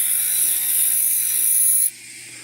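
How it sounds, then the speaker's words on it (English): A separating disc grinds along a freshly cut edge of a handmade burnisher for stone setting, giving a steady, high-pitched whine that stops abruptly near the end, leaving quieter background. "I'm going to smooth off that area that I just cut"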